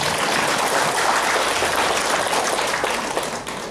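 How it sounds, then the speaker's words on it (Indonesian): Loud, dense applause fills a workshop hall as the audience claps for an education official with a background as an economics teacher. It runs steady throughout, with a slight fade near the end. "Kita tepuk tangan dulu untuk beliau."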